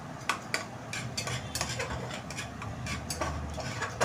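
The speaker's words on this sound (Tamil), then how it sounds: "நல்லா கைவிடாமல் கலந்துக்கிட்டே இருங்க" Tomatoes being stirred and sautéed in a pan for vazhaikkai kulambu, a spatula scraping and clinking against metal in an irregular rhythm over a soft, low sizzle.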